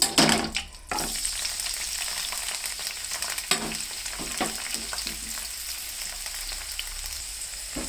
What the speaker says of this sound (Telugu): ఆయిల్ కాగింది, ముక్కలు వేసేసేయటమే.